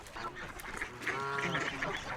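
Geese honk repeatedly at close range, a run of loud, overlapping calls that build in the second half, with no talking over them.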